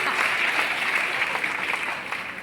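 Loud, continuous applause from a seated audience at a family success-story gathering, a dense steady patter of clapping that holds for a couple of seconds with no voice over it.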